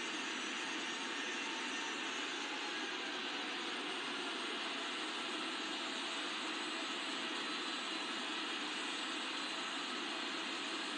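Simulated Boeing 777-300ER engines in the Infinite Flight game give a steady, loud jet whine and roar while the airliner taxis at an airport, constant through the whole stretch with no talking.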